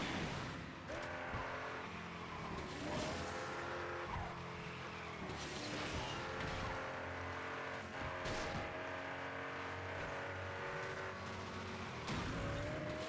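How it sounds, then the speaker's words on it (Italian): A Lamborghini Miura Concept drifts through a race in the video game Asphalt 9, its tires squealing and skidding over a steady roaring engine, loud and continuous throughout with no talking. "io adesso faccio le derapate"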